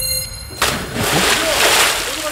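Something drops into water with a loud, close splash, followed by sloshing and rushing water, with voices faintly around it.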